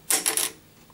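A bone acoustic guitar saddle dropped onto a hard surface gives three quick, bright clinks in under half a second, close, faint and alone.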